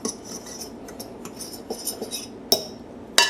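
Cornmeal, baking powder and salt whisked together in a bowl, a metal utensil clinking and scraping against the sides in quick light strokes, with two louder sharp knocks standing out near the end.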